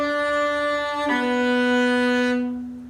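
A cello sounds sustained bowed notes, a steady held tone with a change of pitch about a second in and a fade near the end, close and alone.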